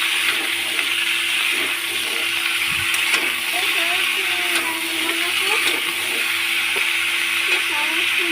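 Vegetables, potatoes, pumpkin and stalks, sizzle in a frying pan as they are stirred and mixed, a steady close frying hiss broken by utensil scrapes and a few clanks, with a voice talking intermittently over it.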